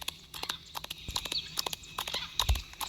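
A horse walks along a mountain path, its hooves clip-clopping in a steady, fairly close rhythm over a soft outdoor background.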